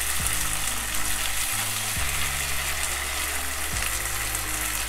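Chicken wings with fermented bean curd frying in a pan over low heat, giving a loud, steady close-up sizzle that runs the whole time with low stirring rumbles and no talk.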